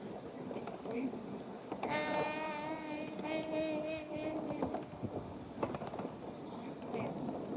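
A trapped bird gives a sustained, strained harmonic cry for about three seconds, loud and close, with faint voices and background noise around it.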